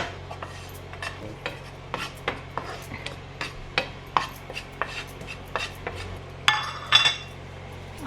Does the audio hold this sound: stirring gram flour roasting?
yes